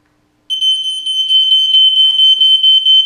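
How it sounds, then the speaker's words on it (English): A smoke alarm sounds a loud, steady high-pitched tone with a short beeping pattern, starting abruptly after a brief silence, followed by some faint rustling. "Oh no! The smoke detector!"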